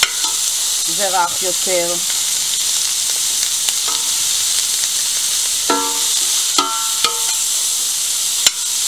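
Chicken breast strips with chili sauce, peppers and onion sizzle steadily in a pan, a constant close hiss of frying with occasional stirring clicks, under brief spoken words.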